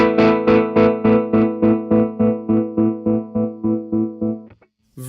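A Chase Bliss Gravitas tremolo pedal chops a sustained electric guitar chord into a steady, even pulse, about a dozen close, loud beats, then the note stops and a brief scrape follows.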